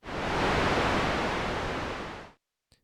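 Broadband hiss from the noise oscillator of a Roland S-1 compact synthesizer, a steady loud wash lasting over two seconds before cutting off abruptly, followed by a tiny faint blip.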